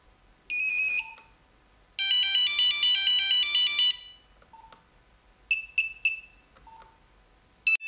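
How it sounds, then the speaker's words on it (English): The classic Nokia tune, a bright electronic ringtone melody from a Nokia 5110 phone, plays in short bursts with brief pauses, fairly loud and close, with no voices. "the classic Nokia tune"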